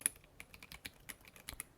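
Keys on a computer keyboard being typed to test its switches, a quick, irregular run of soft, close clicks and clacks heard alone over quiet room tone.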